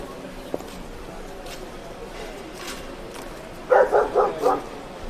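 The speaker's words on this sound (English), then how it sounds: "Oh, I hear dogs." Dogs bark at an outdoor protest in London: a quick burst of four loud barks near the end, above a murky crowd and street background with faint voices.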